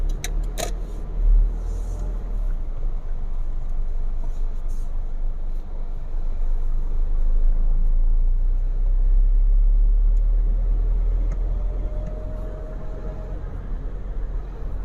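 Car rolling slowly through the Central Rama 2 multi-level parking garage, a low steady engine rumble echoing in the enclosed structure with brief clicks and faint hums.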